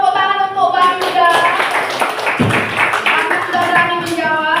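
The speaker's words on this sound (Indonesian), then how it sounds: "Oke, betul tepuk tangan untuk Bang Yuda." Students in a classroom clap for a classmate, a loud, fairly sustained patter of hand claps with voices mixed in throughout.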